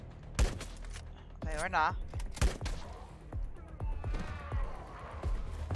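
Gunfire in the LifeAfter survival video game on PC: several sharp, close shots spaced irregularly, some in quick pairs, mixed with game effects while someone talks briefly over it.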